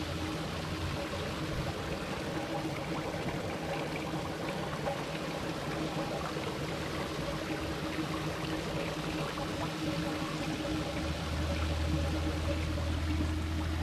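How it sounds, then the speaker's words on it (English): Naturally carbonated spring water bubbling up from the ground at a small spring in Soda Springs, Idaho, giving a steady close gurgling and trickling wash that grows slightly louder near the end. "water bubbling up from the ground."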